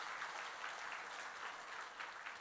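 Short burst of congregation applause in a church, a dense, even patter of clapping at moderate loudness with no talking.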